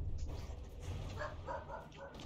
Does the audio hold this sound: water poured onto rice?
no